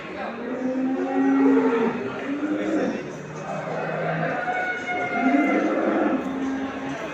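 Dairy cows at a livestock market in Ankara moo repeatedly, several long low calls rising from a busy crowd of chatter and voices; people talk throughout.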